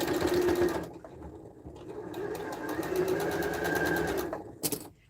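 Sewing machine stitching quilt pieces at shortened stitch length, a steady close whirring run of about five seconds that pauses briefly near the end, with no talk over it.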